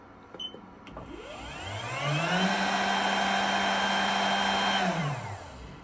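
A CNC machine spindle spins up with a rising whine, holds a steady loud tone at full speed for a few seconds, then winds down, close and alone.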